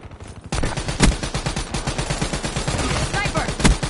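Sniper and other gunfire in a PS4 shooter game cracks out in a rapid, dense burst of repeated shots, with two sharper, louder reports standing out, close and loud after a brief quieter start.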